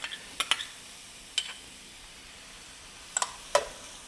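Minced garlic sizzles faintly in a pan with a soft, steady hiss, broken by a few sharp clicks and taps of stirring, close and quiet with no talk.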